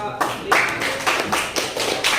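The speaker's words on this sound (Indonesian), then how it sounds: "Tepuk tangan dulu untuk kelompok" Classroom students clapping for a student group, a few loose bursts of hand claps at an uneven rhythm, fairly close, with voices talking around them.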